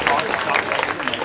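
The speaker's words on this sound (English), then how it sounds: "So a huge round of applause for Rishi, your final presenter tonight." Applause from a live nerd night audience as a presenter is welcomed to the stage, steady dense clapping throughout with some crowd noise.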